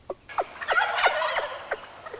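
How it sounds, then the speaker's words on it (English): Wild turkeys gobble at dawn during a spring hunt, a rapid burst of rattling gobbles that sounds fairly close but moderate in volume against a quiet background. "Sure enough, as we got to our blinds, turkeys started gobbling."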